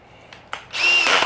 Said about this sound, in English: drill using my hole saw. Going straight in.